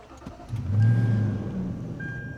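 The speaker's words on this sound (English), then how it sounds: "let's go ahead and turn the car on" A car's engine cranks and catches up close, its low rumble swelling for about a second, then settling into a steady idle with no one talking.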